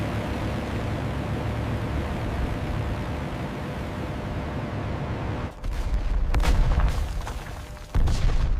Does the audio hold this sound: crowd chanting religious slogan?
no